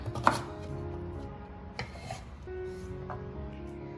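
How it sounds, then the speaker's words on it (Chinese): Knife chopping taro and sweet potato into small pieces on a cutting board, a few soft close knocks and cuts over a low background hum. "切成小块，番薯也切成一样大小的块。"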